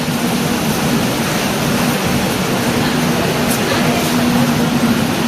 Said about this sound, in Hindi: मैं आया हूँ यहाँ पे, बारिश हो रही है